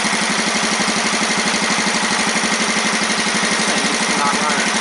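An engine after an early morning cold start, running roughly with a loud, steady, pulsing chug and uneven beat throughout.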